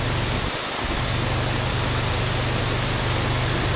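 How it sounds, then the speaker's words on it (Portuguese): The Todtnauer Wasserfall, a large waterfall in Germany, roars as a constant, dense wash of falling water close by, loud and unbroken with no voices. "estou aqui numa grande cascata de água que vou-vos mostrar."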